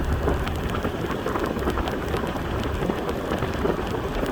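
Steady rain falls over a village in Sangthong district, Laos, a dense even hiss of drops close by with no voices.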